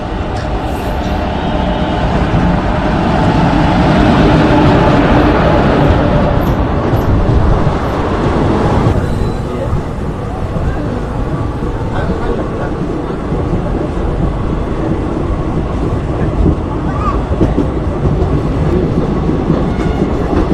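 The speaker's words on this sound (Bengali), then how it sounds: "সেই ঢুকে যাচ্ছে আমার হুল এক্সপ্রেস" The Hool Express passenger train pulls into a station with a loud, continuous rumble and clickety-clack of wheels over rail joints, filling the scene close by for about twenty seconds.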